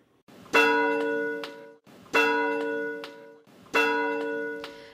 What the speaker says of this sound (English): People in Mount Dora can now ring the newly restored church bell